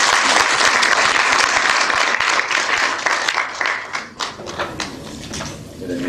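Dense audience applause welcomes a speaker at a press conference in Paris, loud and steady, then fading out near the end as a voice comes in.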